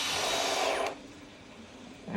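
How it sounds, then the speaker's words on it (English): A power drill drilling out existing holes whirs loudly for under a second, then cuts out, leaving a quiet room hum before a faint noise returns at the end. "And just drill these out."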